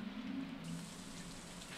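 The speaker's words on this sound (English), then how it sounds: "Oh, it's raining." Soft steady rain patters in the farming game Stardew Valley, a constant hiss of falling drops with a low hum beneath, heard alone without any talking.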